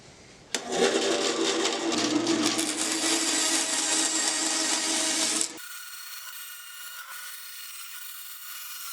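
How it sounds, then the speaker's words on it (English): A bandsaw cuts away the excess of wooden knife handle scales on a recurve Bowie knife, a loud, steady, close rasping cut of about five seconds, after which the machine keeps running on its own with a lower hum. "I'll mark out the excess of the scales and cut as much of it off on the bandsaw as possible"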